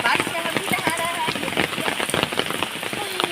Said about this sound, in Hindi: बारिश देख के मेरा मन नहीं रुका और जो है हम भी नहाने लगे